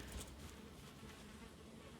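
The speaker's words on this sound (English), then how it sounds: "Alright, so there's bees here." Bees buzzing in the video game Valheim, a continuous faint insect drone with a soft steady hum and no voices over it.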